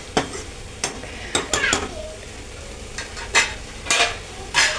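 Grated coconut cooking in a pan for mushroom thoran, with a soft frying sizzle and intermittent scrapes and clinks of a spoon stirring against the pan, spaced about a second apart.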